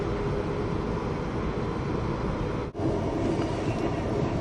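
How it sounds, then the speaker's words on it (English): The California Zephyr passenger train rolls along steadily below the snow line toward Sacramento, a continuous loud rumble of wheels and cars with a brief dip partway through, and no voices over it. "Continuing west, the California Zephyr drops below snow level on its way to Sacramento."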